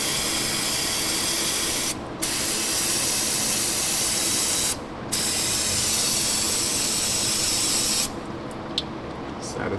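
Degreaser sprayed from an aerosol can onto a leaking Land Rover engine, a loud steady hiss in long bursts broken by two brief pauses and a final stuttering stop.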